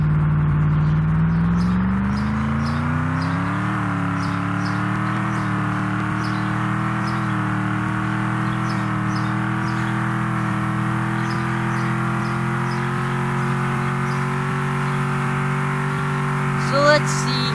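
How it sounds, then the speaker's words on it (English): An American car in Roblox Ultimate Driving accelerates from a standstill to 100, its synthetic engine tone climbing steadily through a gear change and holding loud and close throughout, with a faint clatter near the end. "So we're going to do this acceleration in 3, 2, 1,"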